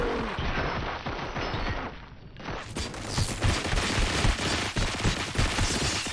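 Sustained gunfire in the Robocop: Rogue City video game, dense overlapping shots and bursts that rage loudly throughout, briefly dipping before intensifying into a continuous fusillade.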